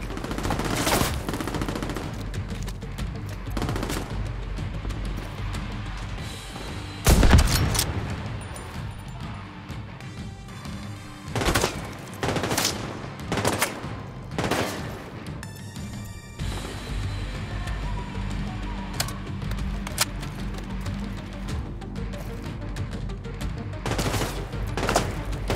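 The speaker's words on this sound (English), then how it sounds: "Who's shooting me from where?" Intermittent gunfire in The Division 2 video game: scattered single shots and short rapid bursts, some loud and close, others more distant, spread over a long stretch of tense combat ambience.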